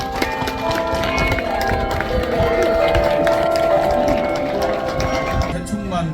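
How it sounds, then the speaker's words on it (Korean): Wedding guests at an outdoor ceremony in Daegu applaud the bride and groom's march, a loud, dense, sustained wash of clapping under music, with a few voices mixed in. "크게 박수해 주시기 바랍니다. 신랑 신부 행진!"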